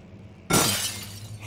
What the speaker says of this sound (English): Can I break glass with an object?